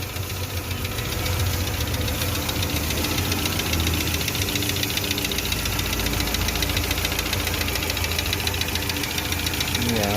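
Gasoline car engine running at idle with a knocking fault, a steady dense rumble with rapid mechanical ticking throughout, close and continuous with no talking.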